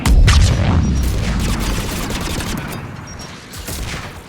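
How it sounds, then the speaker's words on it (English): Heavy anti-aircraft gunfire in the Mass Effect game: a loud, dense fusillade of booming shots that pounds continuously throughout, strongest at the start and easing slightly before a final burst. "Anti-aircraft guns are up ahead."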